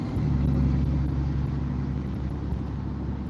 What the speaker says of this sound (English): This is a diesel truck coming up on my left